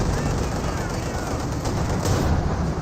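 Pak 40 anti-tank gun firing in Company of Heroes 2, heard amid a dense, continuous wash of battlefield gunfire and explosions, loud and steady throughout with no clear single shot standing apart.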